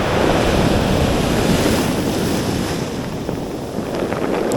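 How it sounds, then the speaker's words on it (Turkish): Sea waves wash over rocks at a fishing spot, a loud, steady roar of surf mixed with wind buffeting the microphone, with no break. "Dalga taşın altına aldı sahteyi."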